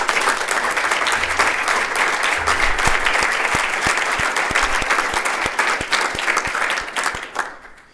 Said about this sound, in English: So one last round of applause for our award winners.